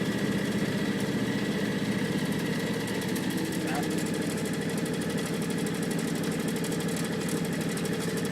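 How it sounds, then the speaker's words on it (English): A John Deere X724 lawn tractor engine idles, not at its lowest setting. It gives a steady, close, even drone that holds unchanged throughout. "just gonna go right down to idle for now"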